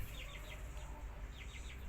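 New Zealand laying hens, Leghorn and Light Sussex, make short repeated clucking calls in a farm coop, a few soft bursts at moderate distance over a low background rumble.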